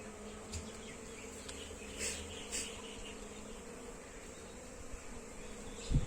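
Honey bees buzz in a dense, continuous drone, with a few louder passes close by rising briefly above the steady swarm hum.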